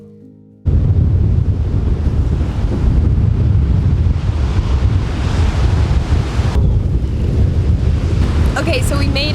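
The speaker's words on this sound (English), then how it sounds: "Okay, so we made it down to this beach." Surf rolls in at a remote beach under strong gusting wind that buffets the microphone, a loud, continuous roar of waves and wind filling the scene after a brief quiet start.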